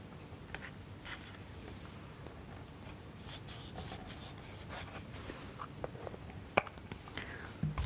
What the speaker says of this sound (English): Wax the upper holes first.